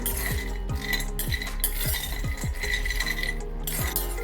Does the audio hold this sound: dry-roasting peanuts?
yes